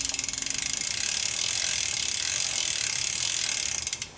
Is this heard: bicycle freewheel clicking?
yes